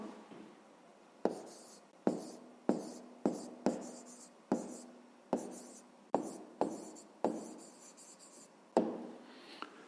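A pen writes an answer by hand on paper, close and quiet, in about a dozen short separate strokes and taps, each with a sharp onset and a quick scratchy fade, spaced unevenly with no voices.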